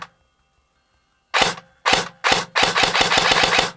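A Lancer Tactical AK LT53 GEN3 airsoft gun fires after a quiet pause: three single sharp shots, then a quick rapid string of about eight close, loud snapping bursts.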